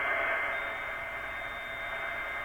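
Steady hiss of shortwave static on a Drake 2-C receiver tuned to upper sideband, with a faint thin whistle running through it, continuous and fairly quiet.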